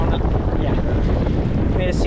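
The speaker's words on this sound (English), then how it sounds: "The wind absolutely came up." Strong wind buffets a fishing boat at sea off Newport Beach, producing a loud, continuous roar of gusts against the microphone with water noise beneath it.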